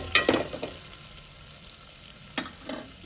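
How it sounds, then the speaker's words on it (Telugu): Onions and tomatoes frying in oil in a pan for chicken curry, a low sizzle with a few sharp stirring scrapes at the start and near the end, close and without talk. "బాండి పెట్టి ఆయిల్ వేసి ఉల్లిపాయలు టమాటాలు ఇలా బాగా దోరగా ఎర్రగా వేగే వరకు వేయించుకోవాలి"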